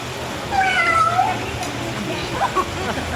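A person imitates a cat's meow several times in a high, drawn-out voice over background crowd noise at a birthday party game.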